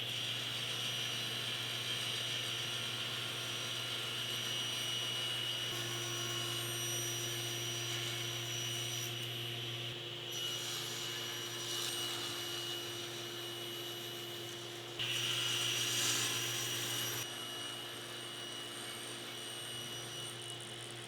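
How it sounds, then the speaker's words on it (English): A table saw with its blade raised higher than normal runs with a steady, loud motor whine and roar, the pitch and texture shifting slightly as a wooden board feeds through, sustained for the whole stretch. "I've also raised the blade a little bit higher than normal so that I have enough room to cut the board"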